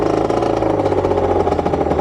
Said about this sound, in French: Peut-être que je la démarre la moto.